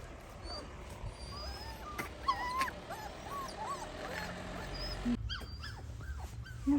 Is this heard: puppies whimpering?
yes